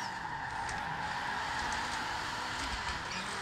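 Car tires squeal in a long continuous skid while drifting in Forza Horizon 4, the handbrake dragged; a steady, moderately loud screech with engine drone beneath, no talking.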